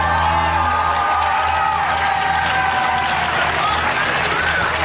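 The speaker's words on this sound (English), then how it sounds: "Gonna ask the audience, starts cheering in advance, just stops abruptly if I get it wrong" A game show studio audience cheers and applauds loudly and continuously, a dense wash of clapping and whoops with voices talking over it throughout.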